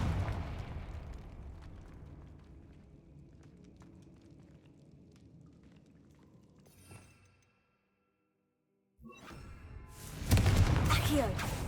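A Confringo blasting spell explodes in Hogwarts Legacy, a loud bright burst with crackling debris arriving after a brief silence, following quieter rumbling combat sounds and a voice.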